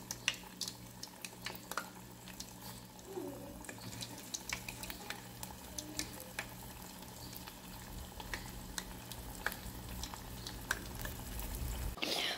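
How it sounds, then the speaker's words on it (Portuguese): Rice balls (bolinho de arroz) frying in hot oil make a steady, close crackling sizzle with dense popping throughout, with no talking. "o óleo já tá esquentando para a gente começar a fritar"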